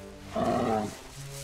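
A single deep, rumbling bear growl rises and fades over about half a second, close and fairly loud against quiet surroundings, in an animated cartoon.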